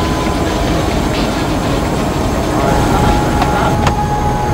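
Helicopter heading airborne over Angkor Wat in Cambodia, giving a steady, loud, close cabin roar of rotor and engine noise that holds evenly throughout, with no talking.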